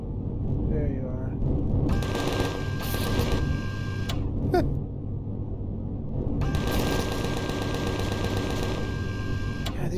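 Two long bursts of rapid automatic gunfire in Empyrion Galactic Survival (Alpha 10), the first lasting about two seconds and the second nearly four, steady and loud, with a low rumbling game background and a speaking voice underneath throughout.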